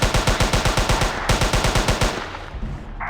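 Rapid machine gun fire in Jurassic Park Hunter Legends, loud evenly spaced shots in two long bursts with a brief gap, ending abruptly.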